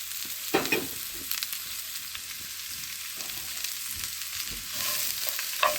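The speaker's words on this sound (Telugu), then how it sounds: "ఉల్లిపాయలు వేగుతున్నాయండి." Onions sizzle steadily in a hot pan for a traditional gongura, urad dal and pumpkin stew, with occasional stirring knocks and scrapes over a constant bright hiss and no talk.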